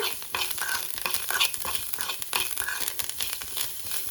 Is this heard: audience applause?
no